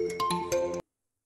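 A mobile phone ringtone plays a short bright melodic phrase of several tones, loud and close, then cuts off abruptly into silence.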